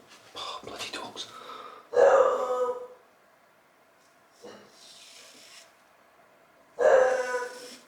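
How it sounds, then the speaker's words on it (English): Dogs bark in two or three short, loud bursts with pauses between them, close by during a wet shave at home, mixed with scraping razor strokes and a quiet murmur. "Oh, bloody dogs."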